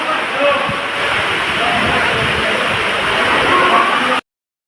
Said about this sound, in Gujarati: વરસાદનો અવાજ તમે સાંભળી શકો છો કેટલો વરસાદ ફૂલ આવી રહ્યો છે